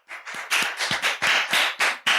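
Hands clapping at a talk event as a speaker is introduced, a quick series of sharp, close claps in a brisk regular rhythm, roughly eight strokes in two seconds, with no talking.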